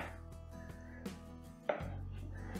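Bread is cut on a board into rough cubes for a traditional British bread pudding, each close knife stroke landing as a sharp tap in a steady, fairly quick run of chops with no voices.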